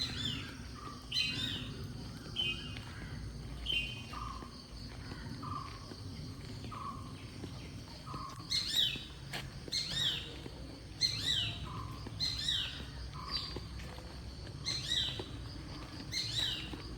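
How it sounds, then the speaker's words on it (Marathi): Birds chirping at dawn in Kerala, repeated short bright calls from a nearby bird at a steady pace over a soft background of insects and distant ambience. "पहाटे पहाटेच पक्ष्यांचा किलबिलाट."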